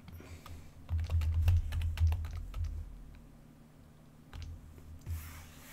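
Fingers type on a computer keyboard in bursts of quick, close clicks, with a brief pause and a low hum underneath, and no talking.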